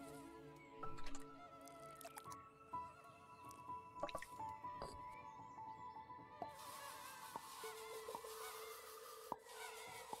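Plants being watered in the gardening video game Garden In, soft repeated drips and squishy spritzes over a faint buzzing game ambience, quiet and close, with no speech.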